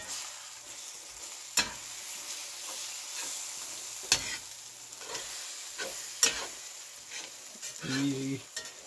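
Four eggs sizzle softly in a frying pan while a utensil stirs and scrapes them into a scramble, with a few sharper clacks of the spatula against the pan and no talking.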